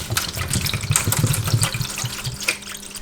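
Air filter cleaner liquid is poured into a pan for washing a Suzuki V-Strom 800 motorcycle pre-filter, making a short, close splashing and gurgling pour.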